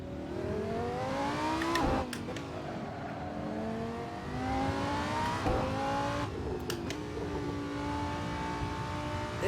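A simulated V10 race car engine in a sim racing game revs and drones with rising, falling pitch, punctuated by sharp pops and crackles around shifts; loud and steady throughout.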